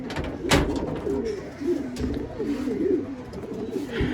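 Pigeons coo in repeated soft, throaty phrases close by, a few calls overlapping, with light knocks and rustles in the background.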